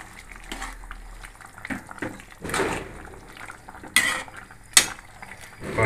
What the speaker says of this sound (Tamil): கரண்டி ஆட்டி நல்லா மிக்ஸ் பண்ணிங்க.